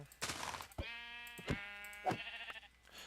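Sheep bleating in Minecraft, three or four drawn-out nasal bleats spaced about half a second apart, clear and fairly close.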